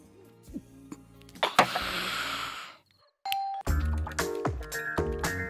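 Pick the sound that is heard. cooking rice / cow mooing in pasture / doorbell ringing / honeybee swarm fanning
doorbell ringing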